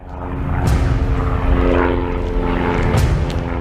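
A propeller airplane drones loudly and steadily nearby, its engine hum holding throughout with faint brief higher whooshes over the rumble.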